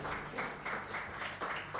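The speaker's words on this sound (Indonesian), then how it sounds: "beri tepuk tangan kemuliaan buat Tuhan" A church congregation at HOME Church Jakarta applauds, heard faint and distant as a soft wash of many hands that swells in gentle repeated waves.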